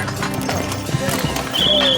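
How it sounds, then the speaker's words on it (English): Horses, many harnessed together in a pulling demonstration, clop and whinny amid a busy crowd, with a high neigh rising near the end over steady music and voices. "Von Guericke would pile on the pressure by bringing on more horses."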